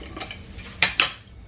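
A metal spoon scoops sugar in a home kitchen, with soft scraping followed by two sharp, bright clinks of cutlery close up against quiet surroundings.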